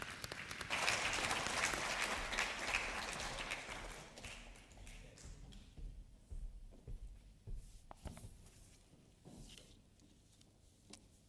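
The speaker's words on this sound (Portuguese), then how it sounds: "Uma salva de palmas" Audience at a talk breaks into applause for the introduced speaker, loud clapping that fades out over a few seconds and leaves scattered taps and quiet room sound.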